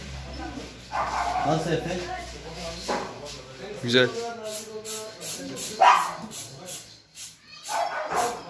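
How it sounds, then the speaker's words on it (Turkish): Dogs bark and yip while fighting in the background, some distance off down in a neighbourhood, while people talk over them nearby. "Aşağıda köpekler kavga ediyor."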